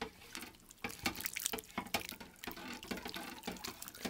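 Blue dye liquid pours over yarn for a microwave dyeing technique, a faint, continuous trickle and splatter with small drips and splashes, close by and steady throughout.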